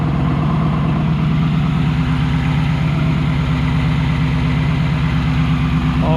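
A ball bearing turbo spins on an idling car engine, making a steady, loud, continuous drone with a low rumble and no pauses.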